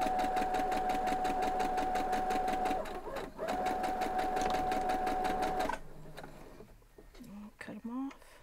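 A sewing machine stitches quilt block pieces at a steady, fast, close whir with a faint high whine, pauses briefly, then stops; a voice speaks afterward.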